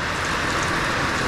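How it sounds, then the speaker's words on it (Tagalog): Heavy storm rain pouring down steadily, a loud dense hiss of drops drumming on surfaces close by, with no talking. "Grabe, ang lakas ng ulan talaga oh."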